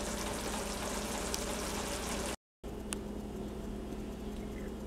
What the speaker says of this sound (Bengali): এখন একটু নেড়ে চেড়ে মিক্স করে 5 মিনিট পরেই নামিয়ে নেব